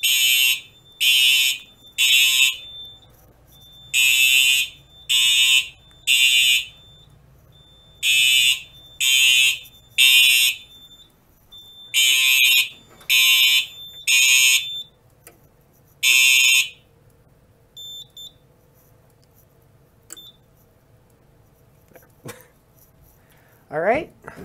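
A Simplex 4010 fire alarm, set off during a pull station test, blares in repeated loud, shrill bursts in a regular three-pulse rhythm, then stops, leaving quiet room sounds.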